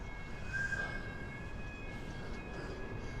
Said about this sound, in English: You hear the train going past again.